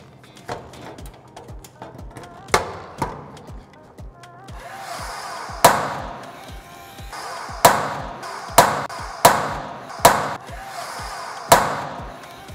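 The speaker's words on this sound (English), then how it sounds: "Get our holes to line up and start riveting." Rivets are set by hand to fasten a metal solar roof vent frame onto a steel shipping container roof: a series of sharp, loud metallic snaps and bangs in an uneven rhythm, close by, with no talk.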